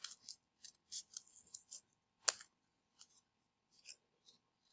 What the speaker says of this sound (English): I cut a lot of triangles because they're easy to get the scissors in and out